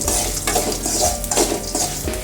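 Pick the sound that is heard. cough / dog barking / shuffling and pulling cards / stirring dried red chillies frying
stirring dried red chillies frying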